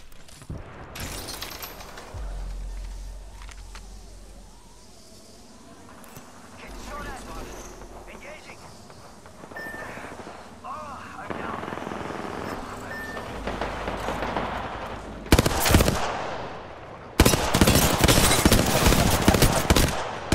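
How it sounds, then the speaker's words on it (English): Artillery from an incoming airstrike in the game Apex Legends, loud rapid explosive bursts late on, preceded by a low rumble, gunfire and players talking. "Yo, we got an airstrike coming down."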